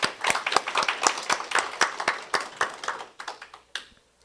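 A church congregation claps together at a Christmas Sunday service, a steady run of sharp, fairly even hand claps that thins out and stops near the end.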